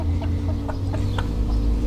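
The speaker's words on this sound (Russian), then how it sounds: "Добрый петушок всех зовет." A rooster clucks and calls to the hens in a farmyard, with short repeated calls over a steady low hum and background noise.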